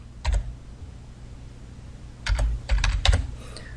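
Fingers tap a computer keyboard while a zip code is entered into an Excel spreadsheet, with one quick pair of keystrokes, a pause, then a burst of several close, crisp taps.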